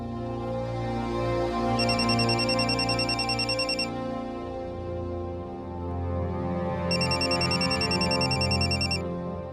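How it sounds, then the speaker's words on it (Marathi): A mobile phone rings indoors, a steady electronic ringtone melody that swells with bright repeated chiming bursts twice, clear and fairly close, with no talking. "अक्षय तुझा फोन वाजतोय."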